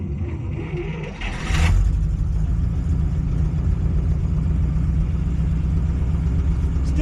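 A 1937 Buick Century engine runs loud and near, its low rumble jumping after a brief whirring burst and then holding a steady, throbbing idle for several seconds.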